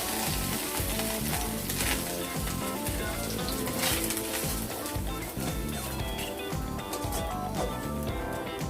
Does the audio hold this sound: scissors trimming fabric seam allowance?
no